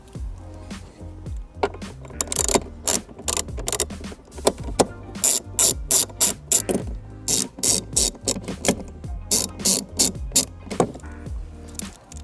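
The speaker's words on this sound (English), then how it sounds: "Then all that's left to do is just bolt it back up." Ratchet wrench tightening bolts while reinstalling a dash panel in a Toyota Tacoma, a rapid series of sharp clicking bursts in quick repeated strokes, close and loud with no talking.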